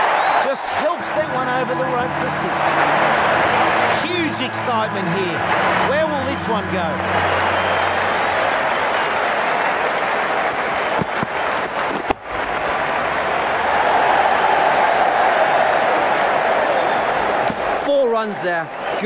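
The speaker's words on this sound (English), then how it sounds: "The crowd are loving this." Cricket crowd at a World Cup match between Sri Lanka and the West Indies, a loud continuous roar of cheering and applause filling the stadium throughout, with a commentator talking over it.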